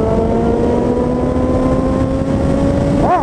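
Honda CB 1000R motorcycle fitted with a K&N filter and GRS titanium exhaust at top speed on a highway, a loud sustained high engine whine holding steady, with a brief whoosh of a passing vehicle at the end.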